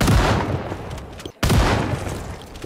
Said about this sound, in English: shall we get blasting the shotgun a little bit?